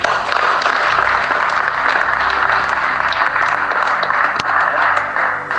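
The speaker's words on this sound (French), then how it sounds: "Applaudissons d'abord pour nos sœurs" A church congregation applauds, a dense, even wash of clapping that holds steady and loud throughout with no break.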